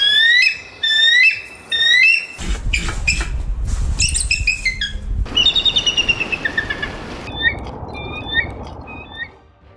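A bald eagle gives high, thin chirping calls that repeat in quick bursts, some harmonic and some piping, over a rough rustling background.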